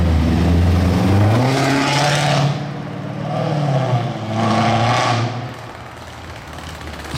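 A sports car in Monaco approaches with its engine revving hard, rising and falling in pitch through the gears, loud and close, then eases off before a second surge of revs, with no talking.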